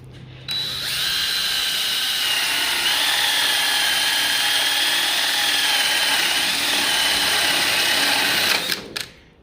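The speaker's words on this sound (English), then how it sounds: "Now we drill." A power drill with a paddle bit whines steadily at high pitch for several seconds, starting abruptly and winding down at the end, close and loud.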